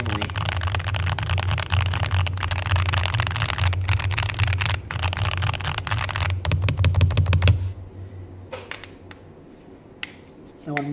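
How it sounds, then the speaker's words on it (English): Mechanical keyboard fitted with lubed Hall effect switches, typed on at a steady, close, busy clatter over a low background hum that cuts out before a few final sparse keystrokes. "That is my keyboard that I'm using right now."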